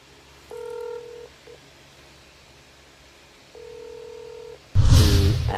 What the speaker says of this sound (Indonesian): Kita telepon guys.